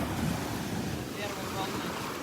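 Small waves wash onto the sand at Delnor-Wiggins beach on a Thursday morning, a steady, close hiss of churning surf mixed with light wind noise, with no talking.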